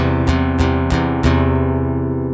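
Four sharp strums across five guitar strings, evenly spaced, with the chord ringing on loudly between and after them.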